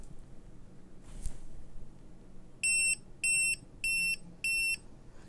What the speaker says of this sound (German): wie ein Wecker, der mal ein bisschen piept.